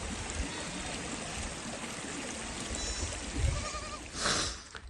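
Sheep and goats grazing in a village bleat beside a steady rushing stream, with one clear bleat near the end standing out above the constant flowing water.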